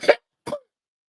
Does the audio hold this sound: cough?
yes